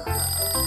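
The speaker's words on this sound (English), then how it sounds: "The alarm's ringing." An electronic ringing tone pulses briefly, two quick bursts of a bright, repeating alarm, clear and close.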